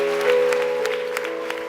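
A church congregation claps and cheers for Jesus during worship. A short burst of applause rises over sustained, held music notes.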